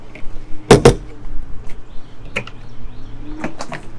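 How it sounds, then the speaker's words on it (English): A door on a Brinkley Model Z 3100 mid-sized luxury fifth-wheel trailer opens with two sharp latch clicks, followed by fainter knocks and rattles, heard alone and close by. "the design of the way that they open their doors"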